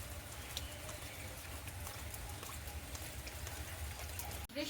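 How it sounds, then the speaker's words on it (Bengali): Rain falls in a steady, soft patter of drops on surfaces, faint and continuous, ending with a brief thump, with no talking. "বৃষ্টি হচ্ছে"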